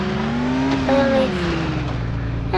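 A car accelerates in the video game Car Simulator 2, its steady engine drone rising in pitch, with a brief higher whine partway through.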